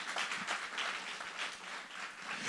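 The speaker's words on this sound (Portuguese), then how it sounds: "Pode aplaudir a Jesus." A church congregation applauds through the whole stretch. The dense, continuous clapping sounds somewhat distant and steady, with no voices coming through.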